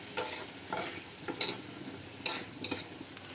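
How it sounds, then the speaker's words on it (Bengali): Masala spice paste with a splash of water is stirred in a pan under a soft sizzle, with a few brisk scrapes and clinks of a spoon against the pan, quiet and close. "জল দেওয়ার পরে এইটুকু জলেই মশলাটাকে ভালো করে নাড়াতে লাগবো।"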